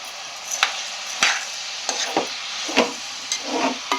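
A cucumber and egg curry is stirred in a pan, with several distinct spatula scrapes and knocks over a constant close sizzle.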